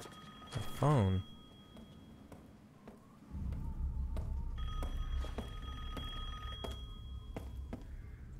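Telephone ringing in the survival horror game Resident Evil Village, a bright bell-like ring that repeats faintly in the background over a low ambient rumble, with brief talking near the start.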